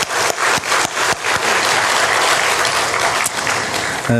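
A church congregation applauds a choir, a dense, steady wash of clapping from many hands that stays loud throughout with no talking over it.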